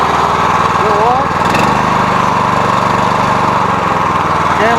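A Predator small engine mounted on a Farmall tractor, driving a PTO flat belt, runs steadily with a loud, continuous chugging drone that changes slightly in pitch partway through, as at idle and revving.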